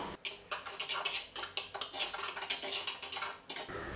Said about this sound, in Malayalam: ഇതെല്ലാം ഒന്ന് നന്നായിട്ട് മിക്സ് ചെയ്ത് കൊടുക്കുക